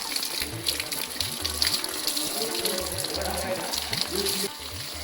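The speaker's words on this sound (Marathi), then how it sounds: "गरम पाणी एकदम शावर." Hot borewell water runs steadily from a shower at a rural farmhouse in rainy Konkan, a continuous hiss and splash with voices talking over it.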